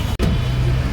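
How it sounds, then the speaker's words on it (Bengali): Steady low engine rumble and road noise inside a city bus on route 237 in Kolkata, a nearly empty Sunday ride, with a brief dropout near the start, continuous and fairly loud. "তো বাস নাম্বার 237 নামে উঠেছি।"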